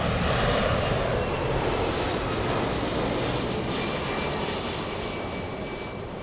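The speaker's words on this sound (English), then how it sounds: "We have a 767." Steady, loud roar of a Boeing 767 jet engine at an airport, a continuous broadband rumble that fades slightly over several seconds with no talk.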